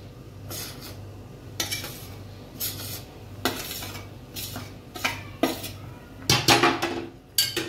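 A utensil scrapes and knocks against a pot as thick jowar (sorghum) flour dough is stirred into boiling water, in irregular strokes that grow louder and busier toward the end.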